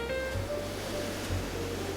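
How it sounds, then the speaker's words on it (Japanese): Gentle ocean waves wash ashore in a soft, continuous hiss of surf, faint and even, with no voices. "目を閉じれば静かに波が寄せる音が聞こえるだろう。"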